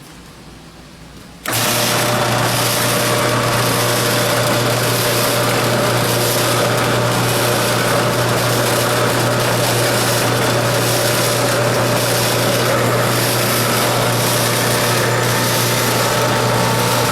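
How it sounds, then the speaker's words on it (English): A power drill boring through a roof flap pad starts abruptly after a short quiet moment, then runs at a steady high-pitched whine, loud and close, for the rest of the stretch with no talking. "push this side up and drill this side"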